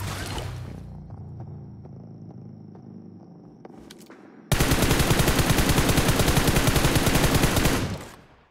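Gunfire in the BGMI video game on the Ocean Odyssey map: a quieter stretch of in-game ambience and faint clicks, then a sudden, loud, sustained burst of rapid automatic fire lasting several seconds before tapering off.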